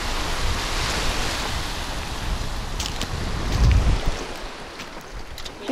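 Sea waves roll in on a snowy, freezing winter day by the southern coast, heard as a broad surf wash under heavy wind buffeting the microphone, with a louder gust or surge midway.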